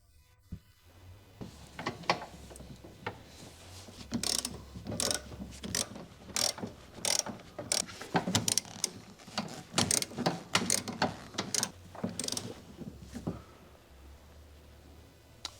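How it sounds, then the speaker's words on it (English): A ratcheting wrench tightens the bolt between the rear camber arm and rear subframe on a 2021 Honda Civic, giving repeated bursts of close, crisp ratchet clicks in uneven runs with short pauses. "Tighten the bolt between rear camber arm and rear subframe."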